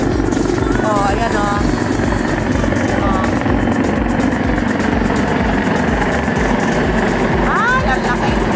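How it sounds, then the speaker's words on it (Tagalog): A helicopter descends near Buckingham Palace in London, its rotor throb and engine roar loud and constant throughout, with traffic noise and a voice chattering in the foreground. "ayan may lalapag na helicopter guys dito sa may Buckingham Palace"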